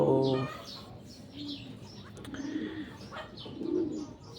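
Soft, low pigeon coos repeat in gentle murmurs, with a few light chirps scattered above them outdoors before a racing-pigeon release in Paete, Laguna, Philippines.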